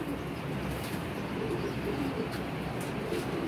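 Pigeon cooing softly in a loft, a few low repeated coos standing out faintly over a steady background hiss.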